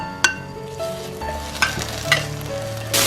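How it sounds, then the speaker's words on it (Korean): Bacon sizzling and frying in a pan, a steady crackling hiss with sharp spatters and stirring scrapes, close and fairly loud, with no voices. "베이컨을 살짝 볶아줄게요."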